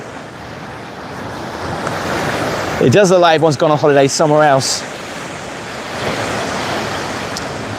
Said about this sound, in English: I love the sounds of waves crashing